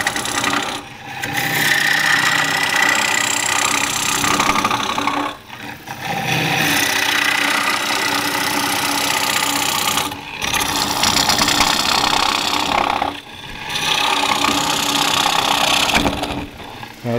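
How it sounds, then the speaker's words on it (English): A gouge roughs out a wooden bowl on a lathe, making a loud, continuous rasping and scraping as the tool bites the spinning wood, broken by several brief pauses between cuts. "Now this is just roughing out a bowl."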